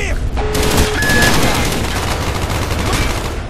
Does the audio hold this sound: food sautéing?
no